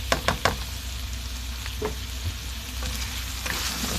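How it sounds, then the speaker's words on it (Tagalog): Tofu sizzles steadily in a pan with pechay, a close, continuous frying hiss broken by a few sharp clacks of a utensil near the start and occasional stirring scrapes. "Ilagay na natin itong tokwa natin, ha? Para maluto siya kaagad."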